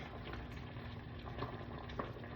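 Potatoes boiling in a cooking pot, a steady dense bubbling and simmering hiss that runs throughout at moderate level, with a few slightly louder pops.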